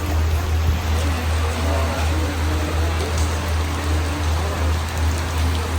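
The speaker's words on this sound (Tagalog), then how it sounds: "Time sa date natin, umuulan." Heavy rain falls in Singapore, a dense, continuous hiss and patter close by with a steady low rumble beneath it, as during an outdoor date.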